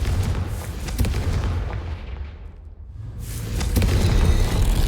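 A Confringo spell explosion in the Hogwarts Legacy video game, a loud, deep booming blast that dips briefly before a second heavy rumbling burst swells and sustains.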